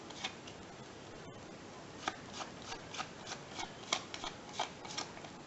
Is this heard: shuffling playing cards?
yes